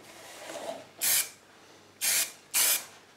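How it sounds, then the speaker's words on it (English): Three short bursts of aerosol spray paint, near and alone, as green is misted onto a restored wind-up toy car for a light first coat. "So I'm giving it a light spray, like first coat."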